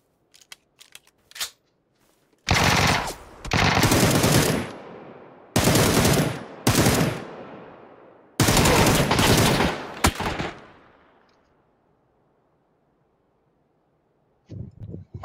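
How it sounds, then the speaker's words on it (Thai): Bursts of automatic gunfire from a video game shooter come in several loud sustained volleys, each a few seconds long, with gaps and a fading tail between them and a few sharp isolated shots. "มันเอาปืนมายิงกูแล้ว"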